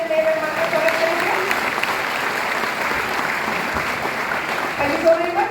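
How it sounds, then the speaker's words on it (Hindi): An audience claps to welcome new guests at a Vestige GROS Mega CNT hall event: steady, dense applause throughout, with a few brief voice-like tones near the start and end. "एक बार जोरदार ताली से अपने नए मेहमान का स्वागत करेंगे।"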